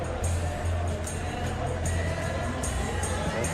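A stadium crowd at a simulated Manchester City vs Newcastle Premier League match in PES 2021 keeps up a steady, dense roar and murmur with no clear peaks, an even background of many voices throughout.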